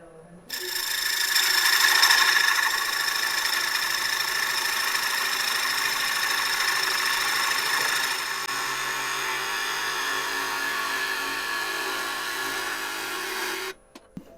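A wood lathe spins a myrtle wood bowl while a tool takes light finishing passes, a steady whirring drone that starts abruptly, holds with a slight dip partway through, then cuts off near the end.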